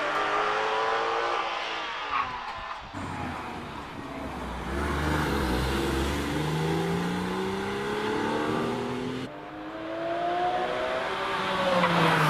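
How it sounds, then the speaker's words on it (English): Porsche 997 GT3 racing up the Prescott hill climb course, engine revving through gear changes as the car accelerates past, loud and sustained for the whole stretch with no talk. "Robert in the 997 GT3 Porsche."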